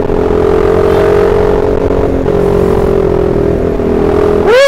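A CFMoto 300SR motorcycle engine hums steadily at riding speed with a loud, sustained tone, then rises sharply in pitch as it revs up at the end.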